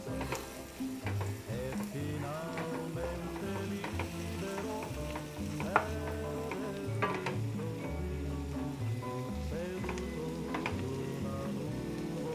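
Chilies being stirred into a sizzling keto lasagna sauce in a pan, with a steady fry and sizzle and repeated scraping strokes of the spoon close by. Faint background music plays throughout, and no one speaks.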